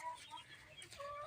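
An aseel rooster gives faint, soft clucks and short calls over low background noise.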